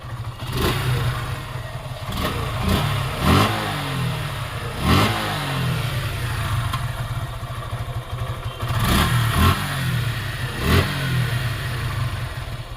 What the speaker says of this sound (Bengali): এফআই এবিএস এর ইঞ্জিন দেখতে পাচ্ছেন সাউন্ড